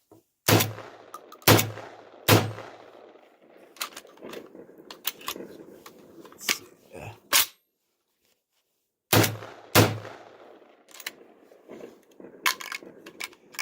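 A Kalashnikov Komrad 12 shotgun fires light loads with the gas set for light loads and a new gas puck fitted: a quick string of three loud shots, scattered lighter clanks and shots, a silent pause, then more sharp reports.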